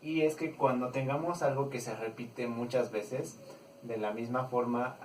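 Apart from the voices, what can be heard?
No everyday noises stand out.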